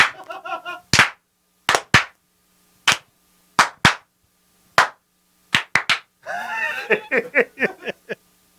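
Loud, sharp hand claps ring out one at a time in an uneven rhythm with silent gaps between them, while a voice briefly speaks in the middle of the claps and chuckling is heard.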